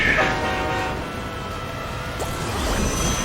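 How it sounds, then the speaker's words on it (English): A video game train rumbles past loudly on a bridge with a sustained horn blast at the start, wheels clattering steadily underneath. "like the real Suzuka circuit, you speed along some trains over a bridge"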